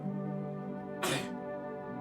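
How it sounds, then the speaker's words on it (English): A single short, sharp sneeze bursts out over a background of sustained tonal music. "I feel like I gotta sneeze."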